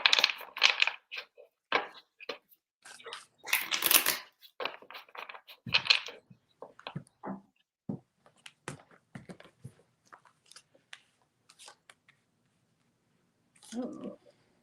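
Tarot cards being shuffled: quick bursts of crisp card riffles and slaps, close and fairly quiet, clustered in the first few seconds and then thinning to sparse taps before a faint final shuffle.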